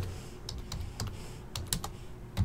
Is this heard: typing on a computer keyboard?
yes